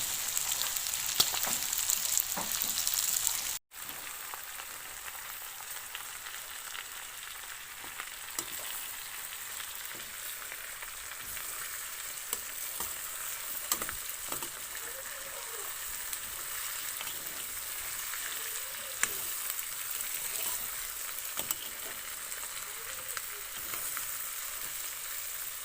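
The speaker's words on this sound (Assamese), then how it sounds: "এতিয়া মই ইয়াত কাটি থোৱা আলু বিলাহীখিনি ইয়াত দি ভালদৰে ভাজি লৈছোঁ" Potatoes and tomatoes fry alongside pork in a pot, giving a steady, moderately loud sizzle that runs throughout, with a sharp knock early on and occasional light scrapes and stirring sounds.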